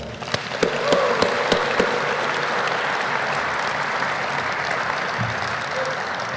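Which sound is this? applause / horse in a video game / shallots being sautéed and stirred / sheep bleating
applause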